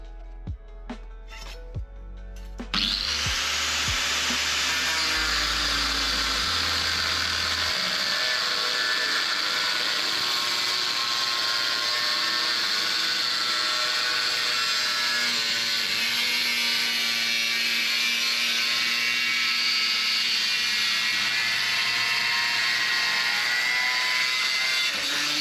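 A few clanks and knocks lead into a power saw cutting thick-walled chromoly steel chassis tubing. The saw gives a loud, sustained, high grinding whine that holds steady for over twenty seconds, with no voices.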